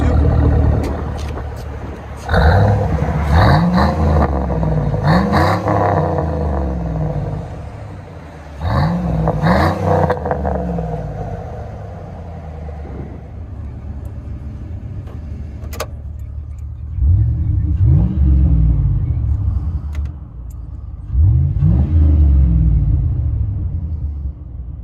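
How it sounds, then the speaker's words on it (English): A 2001 GMC Sierra with a 5.3L V8 and a side-exit Flowmaster Outlaw exhaust with dual tips revs repeatedly, loud and close, with deep rumbling blips over a steady throaty idle between them. "GMC with FLOWMASTER Outlaw out the side with a dual tip, guys."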